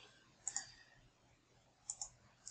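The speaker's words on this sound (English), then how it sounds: "When I do right clicking on this one" A computer mouse gives faint, crisp clicks, first a quick double click, then another double click, then a single click, in a quiet room.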